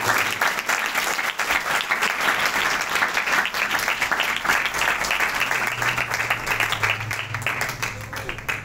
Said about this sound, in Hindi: आइए यीशु मसीह के लिए जोरदार ताली